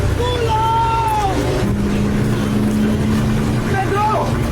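A motorboat engine drones steadily nearby, with a low hum and rising whine, while voices talk over it.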